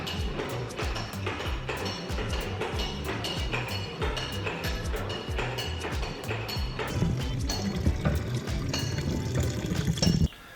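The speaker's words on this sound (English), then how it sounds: "then we ratchet and press down and press out all the remaining juice" Red Burgundy grapes pressed in a ratcheting basket press, with steady liquid pouring and splashing throughout, overlaid by repeated clicking and knocking, growing slightly louder toward the end.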